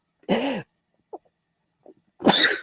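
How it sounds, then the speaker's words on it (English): A person lets out a sharp, explosive sneeze, followed by a couple of tiny faint sounds and then a second forceful sneeze, close and clear in a quiet room. "I'm going to sneeze."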